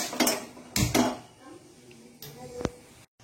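A pan is set down on the stove with several sharp metallic clanks and knocks of pots and utensils in a home kitchen, then a brief lighter clatter near the end.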